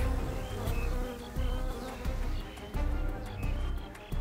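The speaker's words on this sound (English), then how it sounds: "the mutant bees misleadingly flew after the SCP Cyber Bee" Mutant bees buzzing in a Roblox game, a loud, close, continuous insect drone that swells and dips in waves, with no talking over it.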